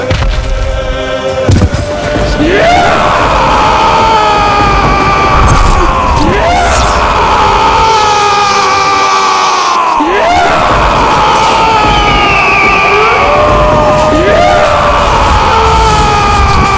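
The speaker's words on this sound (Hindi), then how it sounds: "इस प्रकार तू चीख कर मात्र यहाँ के चमगादड़ों को आतंकित कर सकता है।" Loud, sustained yelling and screaming from voices in a dramatic devotional scene, with booming bursts and a roaring, crowd-like wash throughout, continuing at high volume for the full stretch.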